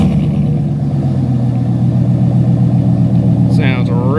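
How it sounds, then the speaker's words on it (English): A 2019+ Ram 1500 5.7 HEMI V8 with a Borla performance exhaust and aftermarket exhaust manifolds idles with a deep, throaty burble from the exhaust, steady and close, with a brief squeaky noise near the end. "So I'll start it up for you guys so you can hear the Borla because it sounds awesome."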